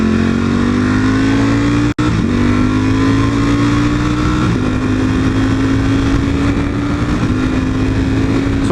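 A motorcycle engine revs continuously and loud, its pitch climbing through gear changes with a brief cut in power as it downshifts, the drone running throughout.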